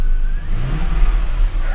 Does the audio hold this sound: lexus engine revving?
yes